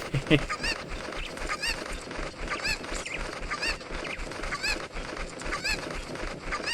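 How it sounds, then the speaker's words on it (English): Cucco chickens cluck and squawk in a repeated, moderately loud pattern over busy game background sound in Zelda Master Quest 3D. "Yep, there's another chicken."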